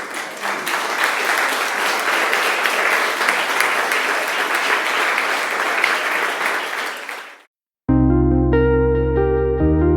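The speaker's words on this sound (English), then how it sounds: "if we extend another warm round of applause" Audience applause at a conference on digital futures, sustained and loud clapping from a sizable crowd that fades out near the end, followed by a brief silence and a burst of electronic music.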